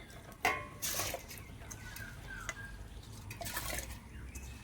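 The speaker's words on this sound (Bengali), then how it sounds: "হাঁড়ির জলও গরম হয়ে গেছে। এখন চালটা দিয়ে দিই।" Washed rice tipped into a pot of hot water on a wood-fired stove, a soft patter and splash followed by a second pour and faint clinks from the pot, quiet and close.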